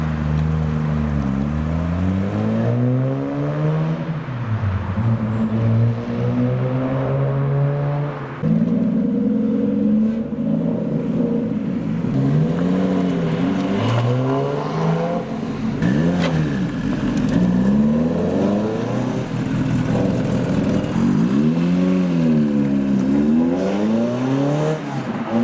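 Sports cars pull out of a car park one after another on the way to a Goodwood track day, engines revving hard with rising and falling gear pulls, loud and close, each car sweeping past in turn.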